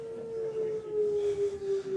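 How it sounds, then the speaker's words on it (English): An air raid siren wails steadily in a single sustained, slowly falling tone, heard alone and moderately loud. "the air raid siren blows"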